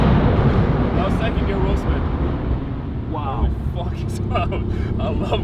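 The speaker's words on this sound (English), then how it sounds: "Now second gear wheel spin." Car with new downpipes and a loud aftermarket exhaust, wheels spinning hard in second gear, a constant roaring engine drone throughout with wind buffeting, recorded from inside the cabin while people talk over it.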